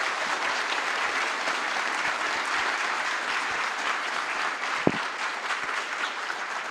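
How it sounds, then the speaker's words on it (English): An audience claps steadily after a conference talk on spyware and device security, a dense, even wash of applause lasting throughout with no voices standing out. "Let's give Micah a round of applause."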